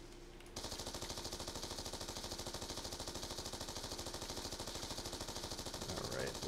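Rapid automatic fire from a Dragonfire drone in the Black Ops 2 video game rattles in a long, unbroken, evenly pulsed burst after a brief quiet start.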